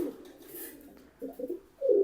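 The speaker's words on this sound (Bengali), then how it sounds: "এখানে এক পিস কালদমের মাদি কবুতর আছে" A female Kaldom pigeon coos close by, a few soft, low rolling coos with short pauses, the final one loudest, in an otherwise quiet space.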